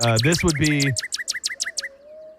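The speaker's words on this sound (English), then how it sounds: "This would be a northern cardinal." A northern cardinal sings a quick run of about eight clear, repeated down-slurred whistled notes, bright and fairly close, right after a brief stretch of someone talking.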